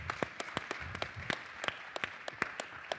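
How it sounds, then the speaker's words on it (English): Scattered, distinct handclaps from a summit audience, a few people clapping at an uneven rhythm with sharp individual claps standing out over light room noise. "you can clap for that"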